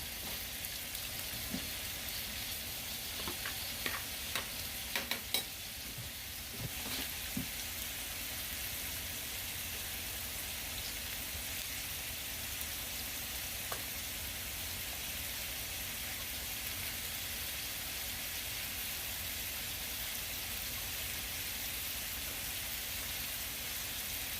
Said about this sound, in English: I'm just adding some garlic and onions into a pot and sauteing some